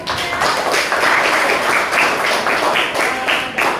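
A classroom full of people claps together in steady, dense applause that holds at an even, lively level throughout.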